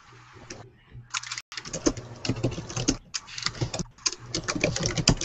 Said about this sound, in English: I have somebody typing right now